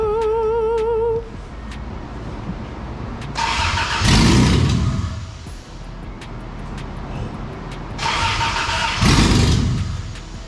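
A Toyota FJ62 Land Cruiser with a swapped engine cranks and fires in two loud bursts, rising into a rough roar each time and then easing off, close to the listener.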